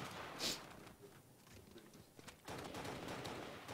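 Gunfire in a competitive Halo Reach match, short sharp shots and bursts rattling over busy game noise, fairly faint overall.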